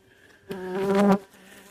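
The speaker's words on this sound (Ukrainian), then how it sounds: "Дуже сильно, дуже злі тут бджоли." A bee from a wild hive in the Polesia forest buzzes loudly right by the ear for under a second, a sharp agitated whine that cuts in and stops abruptly.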